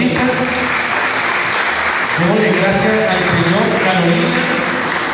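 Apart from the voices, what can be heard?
church congregation applause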